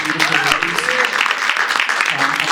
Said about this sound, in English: So one more time, a big applause for these beautiful, beautiful ladies.